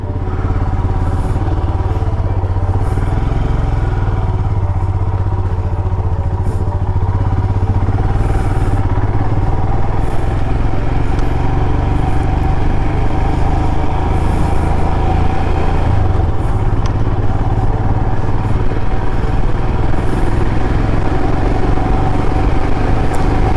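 Motorcycle riding on a Himalayan mountain road between Haldwani and Pithoragarh, its engine droning steadily and loudly throughout with a deep low rumble and some clatter, no speech over it.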